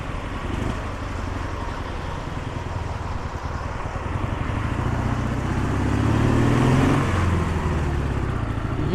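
A 1976 Dnepr MT-9 motorcycle riding along with a steady engine drone that rises as it shifts into second gear, loud and close, with wind noise.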